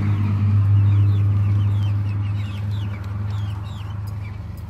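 Young chicks and grown chickens in an outdoor area cluck steadily and close by, while thin high peeps from the chicks flutter repeatedly over the lower clucking.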